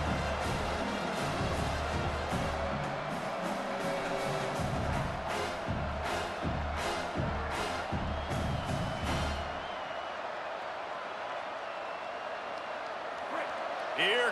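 Home crowd noise from the College Football video game as the defense tries to get off the field on third down, a loud sustained roar of cheering with scattered thumps, dropping away near the end.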